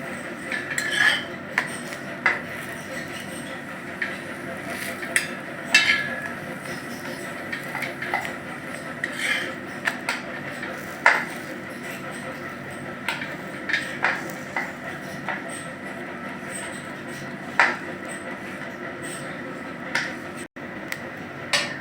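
A metal spatula scraping and pressing a navaratna paratha frying in oil in a pan over low heat, scattered sharp clicks and scrapes over a quiet background, irregular and fairly close.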